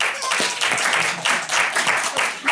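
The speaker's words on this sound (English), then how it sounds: "Let's clap it up for that." An indoor audience at a university celebration event bursts into applause, a dense, steady patter of many hands clapping close to the microphone for a couple of seconds.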